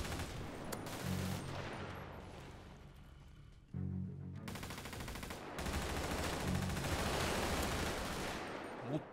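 Gunfire trades back and forth in a GTA 5 roleplay street fight, with sharp bursts of automatic shots and single cracks coming in clusters, some close and loud, others farther off, with a short lull between volleys.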